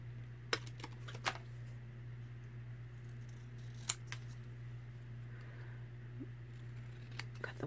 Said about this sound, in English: Let's cut one out and see what it looks like.